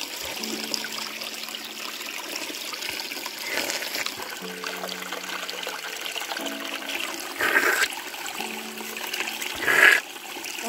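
Cold mountain water trickles and splashes on a spring hike on Knox Mountain, a continuous close stream with brief louder splashing bursts near the end.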